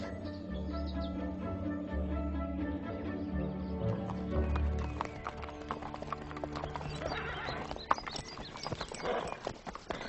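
A horse's hooves clip-clop in a steady walking rhythm on a sunny ride toward a village, close and clear, with a brief whinny and faint birdsong around it.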